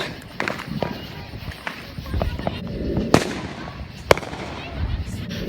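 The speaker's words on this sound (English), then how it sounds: "I know there's a lot of fireworks and stuff going on" Fireworks and firecrackers burst during a Fourth of July night outdoors: scattered sharp cracks, with two loud bangs standing out, over crowd noise, running footsteps and excited voices talking nearby.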